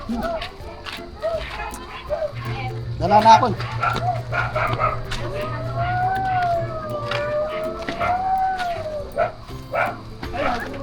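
Dog barking and yelping with a drawn-out howl-like whine, moderately close, under ongoing conversation between several people outdoors.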